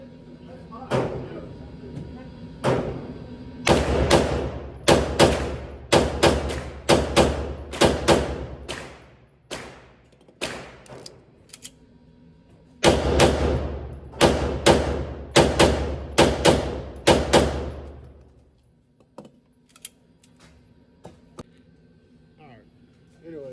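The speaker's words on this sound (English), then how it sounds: "So here we go, pretty close semi-rapid fire, all in the A zone except for the one." Pistol fired semi-rapid at close range on a shooting range, a string of about twenty sharp, loud reports in two quick bursts separated by a short pause.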